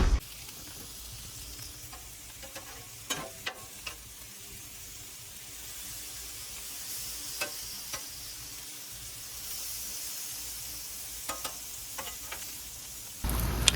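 Steak and chicken sizzling on a hibachi grill at home, a steady close hiss of frying meat with a few sharp pops and crackles, no talking.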